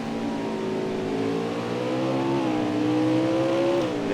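Onboard a Valvoline Toyota racing in an Xfinity series race at Mid-Ohio, a steady, loud engine drone fills the whole stretch, its pitch climbing slowly, then briefly dipping near the end.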